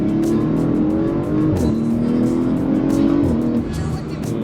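A 2025 Audi RS5 engine pulls hard and climbs through the gears, a loud, steady rising drone with clear drops at each shift, heard from inside the car with faint talk beneath.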